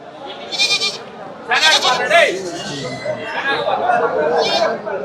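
Goats bleating at the Ranipettai goat market, several loud close bleats over a busy crowd with people talking throughout.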